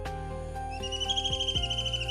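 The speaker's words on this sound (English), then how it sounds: "The bird uses prominent locations like treetops or distribution wires and emits a distinct call." A white-throated kingfisher calling, a series of high, rapid, whistled notes rising out of a steady background hum and tonal noise.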